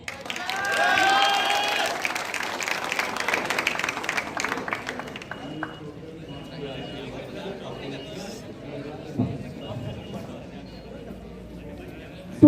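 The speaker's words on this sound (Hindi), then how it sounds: "तो तालियों के साथ स्वागत करें" An audience at a school farewell event applauds as a student is welcomed on stage, a burst of clapping that swells early then fades into crowd murmur and chatter.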